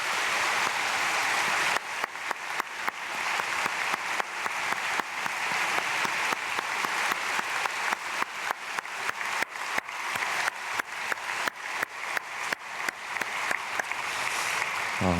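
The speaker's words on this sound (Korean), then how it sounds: "박수하겠습니다." A church congregation at an early-morning prayer service applauds together, a steady wash of hand claps sustained for about fifteen seconds, loud and continuous with a slight swell at the start.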